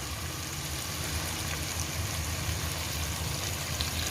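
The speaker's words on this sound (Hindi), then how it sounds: "अब इसमें मैं 3 गिलास पानी ऐड करूँगी।" Water being poured into a pot of aloo gosht that holds cooked-down tomatoes and masala. It makes a steady, continuous rushing splash at close range that lasts the whole stretch with no talk over it.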